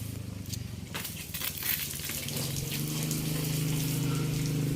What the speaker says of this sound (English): Finally, open the tap to maximum